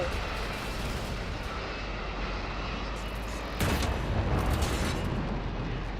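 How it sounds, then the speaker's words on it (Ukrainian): Dense rumbling blasts and booming gunfire-like noise from blowing something up in the Roblox game War Tycoon, loud and continuous with a stronger burst partway through. "І заодно ще підриваю оцю фігню."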